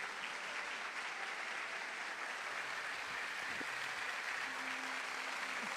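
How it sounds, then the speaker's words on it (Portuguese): Applause from a church congregation praising Jesus, a faint, steady wash of clapping heard from a distance throughout, with some soft tonal sound underneath. "Você pode aplaudir o Senhor Jesus?"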